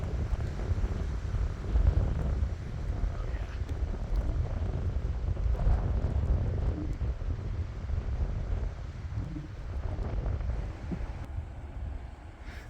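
Strong wind gusts during a historic lake effect blizzard, a low, buffeting roar on the microphone that swells and eases over several seconds, with a brief exclamation from someone nearby.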